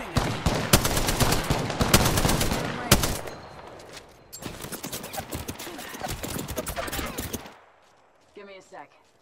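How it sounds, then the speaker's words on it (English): Enemies in a sci-fi shooter video game fire on the player, with dense, rapid bursts of gunfire crackling almost without a break, then a sudden drop to quiet with a brief game voice near the end. "The enemies are shooting at me."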